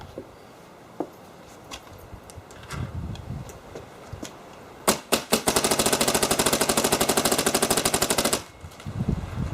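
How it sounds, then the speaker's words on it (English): A Cyborg RX paintball marker fires an uncapped ramp, a rapid, loud burst of sharp popping shots lasting about three seconds after a few scattered single cracks and background noise. "I'll start with the Cyborg"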